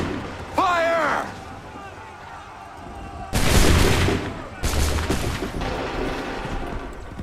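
Musket volleys in Assassin's Creed 3, two loud crashing bursts of massed gunfire a second apart, each with a rumbling tail, following a shouted command amid battlefield noise.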